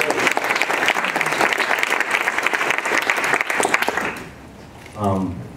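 At a MobileMonday Silicon Valley tech meetup, an audience gives a loud round of applause for the sponsors, dense clapping that fades out near the end before someone briefly speaks.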